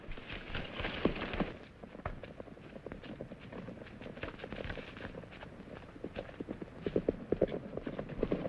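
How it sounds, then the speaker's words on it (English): Hoofbeats of the horse Trigger clatter fast and uneven at a moderate distance in a 1944 Western, with scattered thumps and faint background noise. "He's trying to steal the mares. He's a smart horse."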